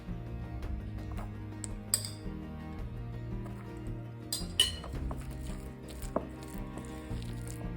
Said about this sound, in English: Give it a good mix with a spatula